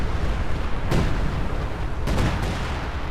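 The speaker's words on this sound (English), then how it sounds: "Some kind of artillery." Artillery fire in the Company of Heroes 2 strategy game: two broad distant booms about a second apart, the second followed by a quick echoing burst, over a constant low battlefield rumble.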